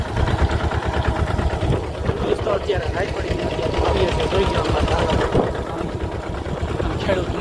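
A tractor engine runs at a farm during sowing, a close, steady mechanical chugging with a rapid pulsing rhythm that continues under someone talking.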